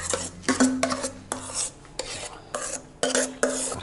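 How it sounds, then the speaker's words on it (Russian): A spoon stirs cream into cottage cheese in a bowl, scraping through the thick mixture with repeated rhythmic rasping strokes up close and no talking. "И потихонечку это все будем перемешивать."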